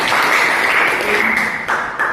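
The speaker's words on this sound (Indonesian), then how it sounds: "Silakan duduk, beri tepuk tangan" Classroom applause from students clapping together, a dense steady patter of many hands that holds loud for about two seconds and then thins out slightly at the end.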